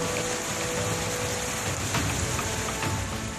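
Torrential monsoon rain in Malkangiri, Odisha: a dense, unbroken roar of downpour at steady high volume, with a faint low rumble underneath and no voices.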